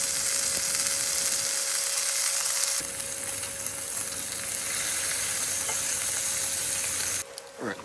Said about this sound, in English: In goes the bacon.